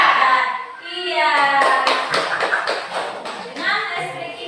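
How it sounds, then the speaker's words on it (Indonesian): Children in a school classroom chant a counting routine and clap along in short rhythmic bursts of claps, close and fairly loud, their voices mixing with the hand claps. "tepuk 3, semangat, tepuk 4, konsentrasi, tepuk 5, siap belajar"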